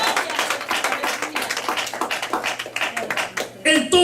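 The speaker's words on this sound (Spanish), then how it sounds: "Dele fuerte ese aplauso al Señor" Inside a church, a congregation claps in a quick, fairly regular rhythm of sharp hand strikes, with a voice breaking in briefly near the end.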